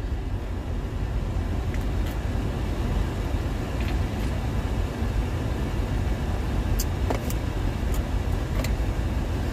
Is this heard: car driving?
yes